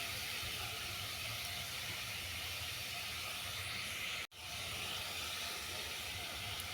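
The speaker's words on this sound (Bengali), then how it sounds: "এগুলোকে সব হালকা ফ্রাই করে নেব" Bread pieces lightly frying in a pan for a salad give a steady, close hiss that runs without a break, apart from one brief cut near the end.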